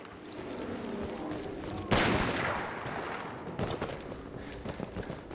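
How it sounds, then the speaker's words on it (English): Rifle and machine-gun fire crackles in a Battlefield 1 match, with sharp bursts at around two seconds and again near three and a half seconds over a busy background of battle noise. "Did someone just shoot at me from behind?"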